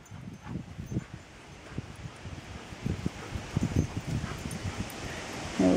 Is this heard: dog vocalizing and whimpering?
yes